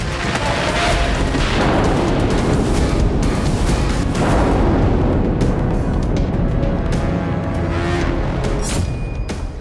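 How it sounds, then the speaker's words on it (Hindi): An anti-tank missile strikes a Merkava tank, giving a loud, sustained blast and heavy rumbling roar that fills the whole stretch before easing slightly toward the end. "वीडियो में मरकावा टैंक को एंटी टैंक मिसाइल से निशाना बनाते दिखाया गया है।"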